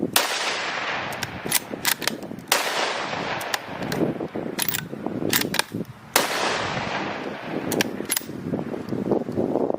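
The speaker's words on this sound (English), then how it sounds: "for me today, though, it's test firing more rifles" Savage Axis .223 rifle test firing outdoors, a string of sharp, loud gunshots at irregular intervals, each followed by a trailing echo, with no talk.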